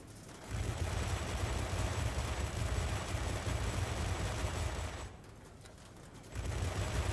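Rapid cannon fire from a fighter jet's gun in a flight combat game, a steady low rumbling burst running for several seconds, pausing briefly, then starting again.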